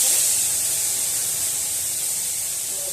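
Boiled red lentils being poured into a pan of hot oil, a loud steady hiss and sizzle that fills the whole stretch with no talking.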